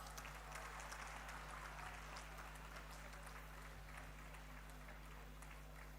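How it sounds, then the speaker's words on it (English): An audience at the Robofest Gujarat grand finale applauds a prize-winning university team, a faint but continuous patter of clapping heard from a distance over a steady electrical hum. "Please give them a huge round of applause."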